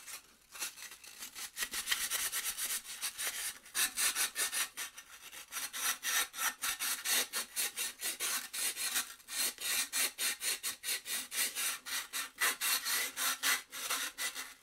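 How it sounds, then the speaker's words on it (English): Hand sanding with 120 grit sandpaper on a high power rocket part, a rhythmic scratchy rasp of steady back-and-forth strokes, close and continuous. "let's try and just open this guy up a little bit with some 120 grit sandpaper"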